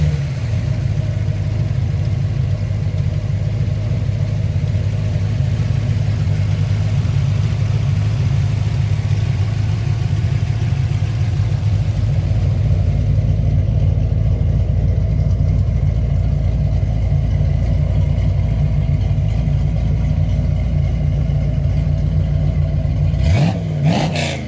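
A 1932 Ford three-window street rod runs its engine loudly and steadily up close, a deep rumbling idle with slight revving swells that holds for the whole stretch, then shifts briefly near the end.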